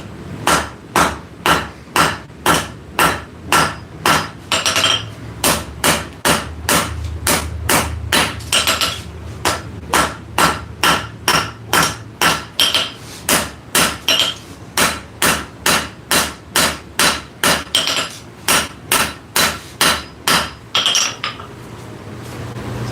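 A hammer forging hot steel on an anvil in a workshop, striking in a long, steady run of loud, ringing metallic blows, roughly two per second, close by and alone.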